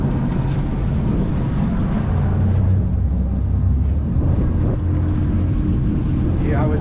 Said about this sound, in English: Then I can take the starboard motor and move it ahead and spin the boat.